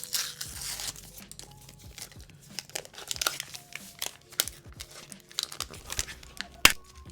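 Paper wrapping is peeled and torn off an Apple AirPods Max case in Space Grey, giving continuous close crinkling, rustling and tearing with irregular sharp crackles throughout.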